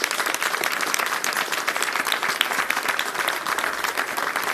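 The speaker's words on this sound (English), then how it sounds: "Superintendent's applause for that." Applause fills a press conference room hosted by Mayor de Blasio, a steady dense clapping from a crowd for a school superintendent, loud and continuous throughout with no pause.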